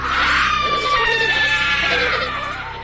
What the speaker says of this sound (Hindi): चुड़ैल को देखकर सभी यात्री चिल्लाने लगते हैं।